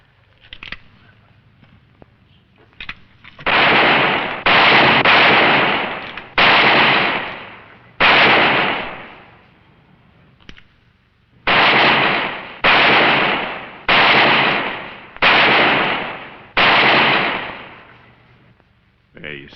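Roughly ten loud, sharp revolver shots crack out at tin cans in an old Western setting, each followed by a ringing echo tail, coming in quick bunches with a short pause midway after a few faint clicks.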